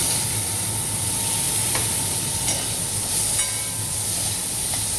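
Onions tipped into hot oil in a home kitchen pan give a steady, close hiss and sizzle that runs unbroken, with faint clinks of stirring and no talking.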